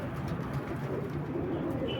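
Old Iraqi domestic pigeons cooing softly and continuously, a low murmuring hum close by with faint wind in the background.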